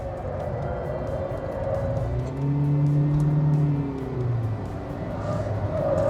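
An older Toyota Yaris Classic's small engine revs up and climbs in pitch, then eases off, heard from inside or close by over steady road rumble.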